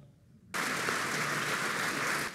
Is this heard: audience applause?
yes